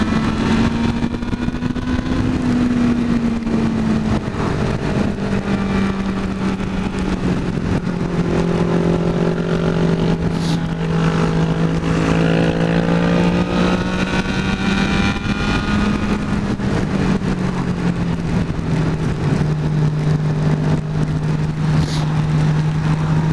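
Motorcycle with ABS ridden on a highway in heavy rain: a steady, loud engine drone holds throughout, its pitch sliding gently up and down with speed, over constant wind and spray hiss, no talk.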